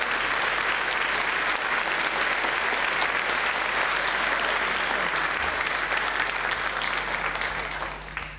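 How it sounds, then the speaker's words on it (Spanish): Audience applauding a guitarist at a live music performance, a dense, steady wash of clapping that runs throughout and tapers slightly at the end. "para quien pido un fuerte aplauso, Fabián González en la guitarra."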